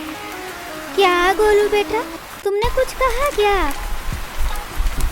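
Cartoon rain falls as a constant soft patter beneath animated characters' voices, which speak in lively, high-pitched Hindi.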